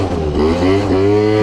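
A small motorbike's engine runs steadily with a rising rev, its low rumble and climbing tone close by and sustained, with no talk over it.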